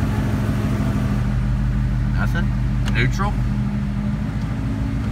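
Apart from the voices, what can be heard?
2017 Mustang 5.0 V8 engine running loud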